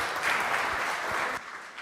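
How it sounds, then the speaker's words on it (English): Audience applause at a talk on circus performer Antoinette Concello: a short burst of clapping from a seated crowd that fades out abruptly, moderately loud, with no speech. "Let's give her one more round of applause."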